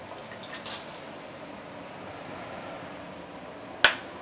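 A gas stove is switched on with a single sharp, close click near the end, after a few seconds of quiet kitchen background with faint soft knocks earlier.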